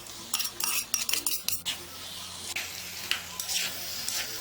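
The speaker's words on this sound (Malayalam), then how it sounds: "ഇനി ഇതിലേക്ക് നമ്മൾ ഈ വേവിച്ച് വെച്ചിരിക്കുന്ന മട്ടൻ്റെ പീസസ് ഇട്ടിട്ട് ഇളക്കി കൊടുക്കാം." Cooked mutton pieces are stirred into masala in a pan, giving a run of close, irregular scraping and clinking strokes over a light background sizzle; no one speaks.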